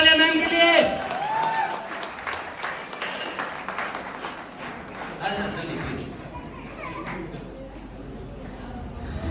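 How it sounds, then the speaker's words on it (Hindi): Audience applause at an AWPL rank recognition programme in Narnaul, a dense spread of clapping from a seated crowd that follows a brief voice, then tapers off toward the end with scattered claps and murmurs. "जोरदार तालियां मैम के लिए।"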